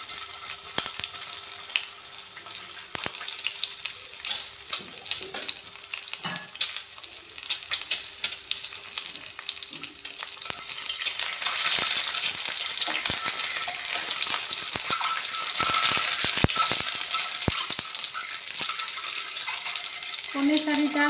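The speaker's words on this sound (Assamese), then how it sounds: "কণী 4টা ভালকৈ ভাজি ল'ম ধুনীয়া কৰি।" Four eggs fry in refined oil in a hot wok with a bright, crackling sizzle that grows louder and denser partway through, broken by scattered sharp spits.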